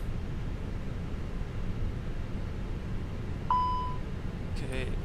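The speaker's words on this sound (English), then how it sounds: "that smoke detector fault should come on in just a second." An aircraft cockpit's smoke detector fault warning sounds as one clear tonal beep partway through, over a steady low cabin hum and faint background noise; a second brief chirp follows near the end.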